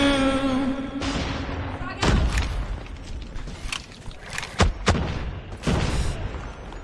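A grenade blast in a Call of Duty Mobile match, a heavy booming thud among scattered gunfire, thumps and sharp impacts, with a voice commentating over the game sounds.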